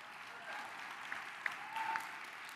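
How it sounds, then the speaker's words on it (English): Scattered applause from a conference audience honoring emerging leaders in nature and biodiversity, thin and fairly distant, with a few sharper claps standing out over a low, steady wash. "Please give one more round of applause to our emerging leaders."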